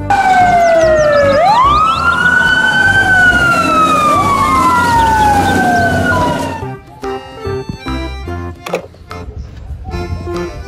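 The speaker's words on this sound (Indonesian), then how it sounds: "Mobil, truk, pemadam kebakaran." A toy fire truck plays a loud electronic siren, a rising and falling wail that repeats several times close up. It then cuts off abruptly and gives way to quieter clatter and handling noises.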